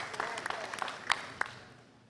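Brief scattered clapping from a conference audience of Kenyan primary school headteachers greeting the union's national chairman, light and thinning out within a couple of seconds.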